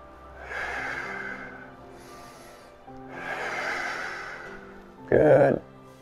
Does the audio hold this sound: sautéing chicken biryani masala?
no